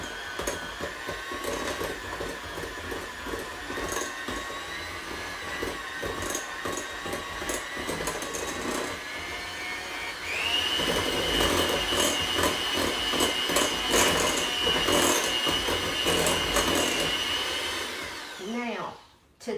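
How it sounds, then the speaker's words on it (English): An electric hand mixer creams a stick of butter with a cup of sugar for banana bread, a steady close whirring drone that steps up in pitch and loudness about halfway through before cutting off at the end. "I'm just going to mix this together"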